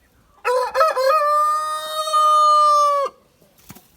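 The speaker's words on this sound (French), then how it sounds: "Donc là on a mon coq." A rooster kept in a French backyard poultry setup gives one loud, close crow lasting about three seconds, with a few rough clucking notes at the start and then a long sustained tone that cuts off sharply.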